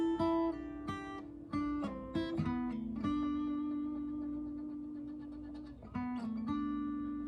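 Slow electric guitar solo from a song, played alone as single sustained notes with slides and bends, clear and close, each phrase ringing out before the next.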